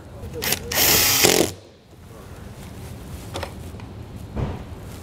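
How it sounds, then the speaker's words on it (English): Power drill driving screws into a wireless RV observation camera mount on a 2020 Mercedes RV, one loud close whirring burst of about a second, then quieter faint handling noises, with no talk. "And then run in our other screws."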